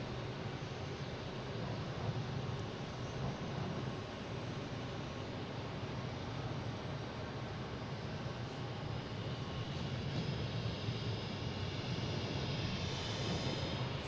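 An American Airlines jet on flight 1776 from Philadelphia lands at Boston Logan. Its engine roar is a steady, fairly faint broadband rumble that holds for about fourteen seconds with no voices.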